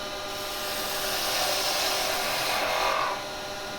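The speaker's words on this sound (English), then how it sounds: "get this taper down roughly to there because it's easy to do with this" A woodturning tool cuts a taper into a spinning piece on the lathe for a simple craft fair item, a continuous close scraping and shaving sound that swells slightly before easing off near the end.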